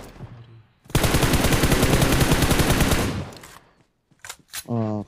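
Rapid automatic gunfire in the PUBG video game rattles loudly for about two seconds. A few scattered single shots follow, and a voice speaks briefly at the end.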